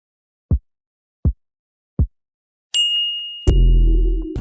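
Three soft low thumps, then a bright, clear ding that rings on as a sustained tone before a loud, deep rumble cuts in.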